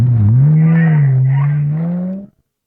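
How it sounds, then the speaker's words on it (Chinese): A motorcycle engine during a chase, heard as a loud, steady, droning roar that holds for about two seconds and then cuts off abruptly, with no voices. "追上那辆摩托车。"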